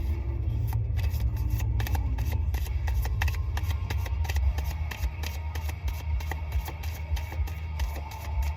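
Tarot cards being shuffled by hand in a steady run of quick riffling flicks and soft slaps, close and fairly quiet over a low background hum, with no voices.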